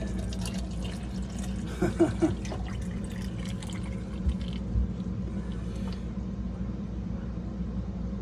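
Water draining from a reverse osmosis storage tank into a cup during replacement of an RO filtration system, a steady low trickle and splash with a few brief drips, fairly faint and continuous.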